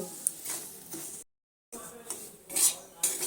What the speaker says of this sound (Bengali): সুজিটা আমি ঘিয়ের সঙ্গে সুন্দর করে একটু হালকা রং ধরে ভেজে নেব।